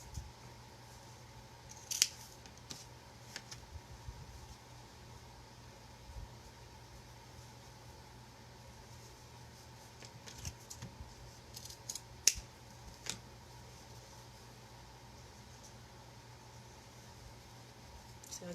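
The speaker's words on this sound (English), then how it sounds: "I'm just cutting them at an angle, making a dovetail." Scissors snipping metal strips at an angle to make dovetail ends for a metal tray, a few sparse, crisp close cuts scattered over a quiet background hum.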